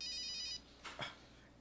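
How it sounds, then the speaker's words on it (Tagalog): A cellphone rings with a tonal electronic ring that stops after about half a second, then a brief low swoosh follows. The sound is quiet and there is no talking. "Uy, nagtunog ka ni mo cellphone, Albert."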